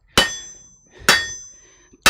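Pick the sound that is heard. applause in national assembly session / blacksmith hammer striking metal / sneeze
blacksmith hammer striking metal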